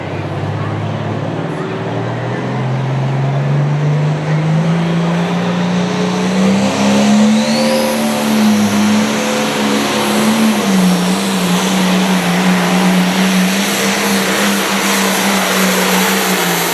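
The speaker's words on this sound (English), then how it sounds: "Green flag, the beautiful blue tractor out of Shelbyville, Illinois, the Rhapsody T8, Mr. Jason Barker." A blue Limited Pro Stock pulling tractor, the Rhapsody T8 from Shelbyville, Illinois, roars at a 2024 tractor pull in Jacksonville, Illinois, a loud sustained engine howl climbing in pitch and holding under a crowd and an announcer's talk.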